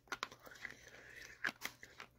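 Old stiff gum from vintage 1950s baseball card packs crunched between the teeth: a few faint, close, brittle crunches spaced irregularly over two seconds.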